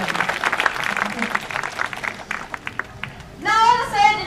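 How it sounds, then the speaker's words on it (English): An audience claps briefly at a sea lion show in a safari park, a burst of close clapping that thins into a few scattered claps before a voice begins talking. "let's give him a round of applause"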